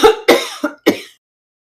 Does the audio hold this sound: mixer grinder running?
no